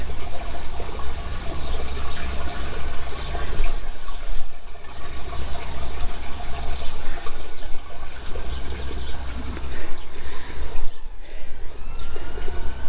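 Water flushing and rushing through a cleared stack pipe drain, a continuous loud gurgling torrent lasting the whole stretch with brief dips in intensity.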